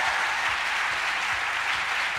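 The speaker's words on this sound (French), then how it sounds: "qu'on peut applaudir bien fort" Audience applause during a live evening talk show in France, a dense, steady wash of clapping that holds evenly loud throughout with no voices standing out.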